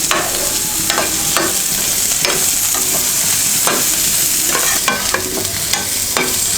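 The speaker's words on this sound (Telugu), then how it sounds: "ఇప్పుడు ఇవి కొంచెం దోరగా వేగాలి" Onions and tempering spices frying in a pan for cabbage coconut curry, a steady loud crackling sizzle with intermittent scraping clicks of a spoon stirring, close and continuous with no talking.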